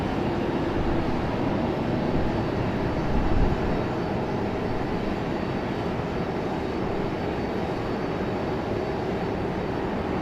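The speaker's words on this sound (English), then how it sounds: "The American 777 is pushing back, as you guys can see." An American Airlines Boeing 777 pushing back at Raleigh-Durham airport produces a continuous low engine rumble and broadband hiss. The sound stays steady and fairly distant for the whole stretch, with no one talking.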